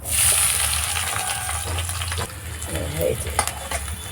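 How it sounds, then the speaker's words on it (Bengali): Onions sizzle and fry steadily in hot oil for a chicken dish, with stirring scrapes and bubbling spatter close by, loud and continuous with no voice over it. "আমি এর মধ্যে পেঁয়াজটা দিয়ে দেবো"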